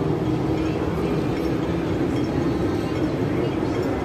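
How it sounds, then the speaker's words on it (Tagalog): A tram rolls past on a street in Causeway Bay, Hong Kong, a loud continuous rumbling drone with faint metallic rattle, close and steady throughout, with no clear talking. "And another tram"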